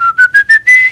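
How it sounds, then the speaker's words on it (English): Close, loud mouth whistling: five clear chirping notes in quick succession, each a little higher than the one before, with the last note held longer. No speech. "Oh, like whistling."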